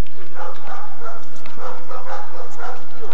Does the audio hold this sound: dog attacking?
yes